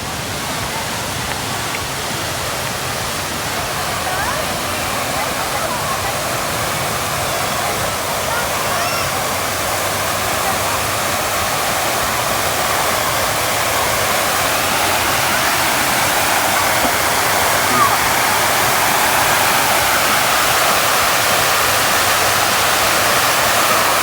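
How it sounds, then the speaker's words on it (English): Steady rushing water pours continuously from an artificial waterfall at a boardwalk in Naga, Cebu, a broad even hiss like a small cascade close by, with no other sounds standing out. "Nice little like waterfall effect, little path you can walk around"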